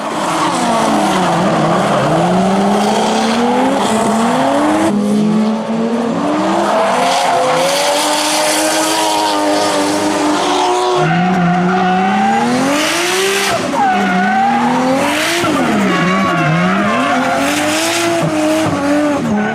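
A loud Toyota Mark II JZX100 engine revs hard while drifting, tires squealing in long, wavering screeches, continuous and close.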